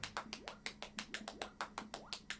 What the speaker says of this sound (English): One single person clapping for you.